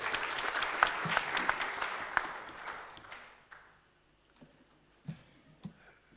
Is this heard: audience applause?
yes